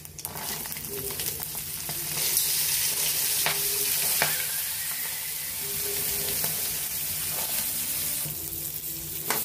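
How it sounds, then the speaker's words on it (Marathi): Unboiled corn kernels stirred in hot oil with asafoetida and cumin, a steady loud sizzle with occasional scraping knocks of the spoon against the pan. "कॉर्न आपण चांगलं स्टर करून घेऊया."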